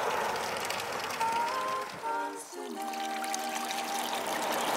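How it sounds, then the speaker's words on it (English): Spring water pours from a hillside spring into a bottle along a walking trail, a steady close splashing trickle whose pitch rises as the bottle fills, continuing without a break. "I'll fill up this bottle and the bladder and we'll talk about the water"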